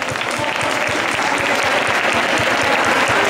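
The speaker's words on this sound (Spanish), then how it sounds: "Así que un aplauso" An audience claps loudly at a historical reenactment event in Béjar, a dense sustained round of applause that keeps steady throughout with individual claps audible.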